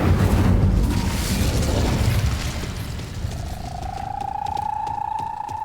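A fire spell cast in Hogwarts Legacy bursts with a loud, deep booming roar that rolls on for a few seconds, then fades into a lingering ringing tone, with no voices.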